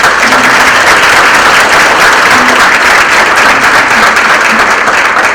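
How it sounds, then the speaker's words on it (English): At a Hispanic heritage breakfast event, a large room erupts in loud, sustained applause, a dense continuous roar of many hands clapping at once, with faint voices barely rising underneath. "Let's give them a round of applause"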